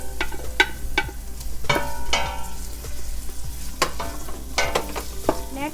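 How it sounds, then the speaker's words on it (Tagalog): Garlic and onion saute in a hot pan, a loud close sizzle broken by repeated scraping clinks of a utensil stirring against the pan. "We're going to saute first the garlic. The next to it is the onion."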